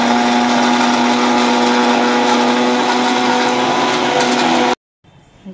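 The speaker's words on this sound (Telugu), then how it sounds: "ఇప్పుడు మిక్సీ పట్టానండి." A mixer grinder runs steadily and loudly with a constant whirring motor hum, blending coconut for milk, then cuts off abruptly near the end, leaving quiet room noise.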